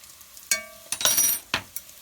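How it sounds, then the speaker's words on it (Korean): Smoked paprika powder stirred in a hot pot: a few sharp metallic clinks of a spoon against the pot, with a short burst of sizzle between them, close and brief. "굉장히 빨리 타기 때문에 막 저어줘야 돼요"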